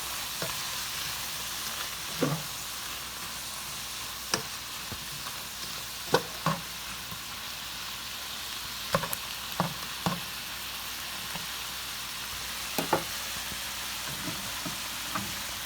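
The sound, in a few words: mushrooms stirred and sizzling with wine and soy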